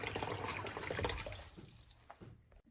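Giant pumpkin seeds rinsed under running water, a soft splashing flow that thins out and fades toward the end, fairly quiet, with no talking.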